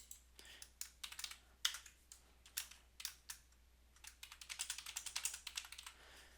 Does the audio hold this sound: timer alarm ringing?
no